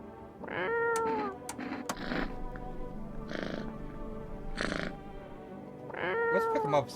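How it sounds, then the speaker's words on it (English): A cat meows repeatedly in a video game, a string of short plaintive cries spaced across the moment, while a person talks over them. "Cute kitty."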